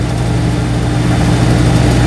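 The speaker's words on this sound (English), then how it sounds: "that's why the engine revs now start building up" An Invacar engine drones steadily up close, a loud low hum that stays even throughout.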